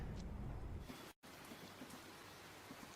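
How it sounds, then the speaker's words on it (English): Steady rain ambience on a Counter-Strike map, a soft continuous hiss of falling drops with a brief dropout partway through, fairly faint and with no talk over it. "Listen to the rain. It's actually very therapeutic, isn't it?"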